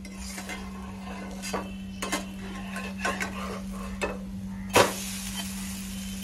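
A moong dal omelette crisping in a pan sizzles softly under a steady low hum, broken by a few scrapes of a spatula and one sharper clatter as it is flipped.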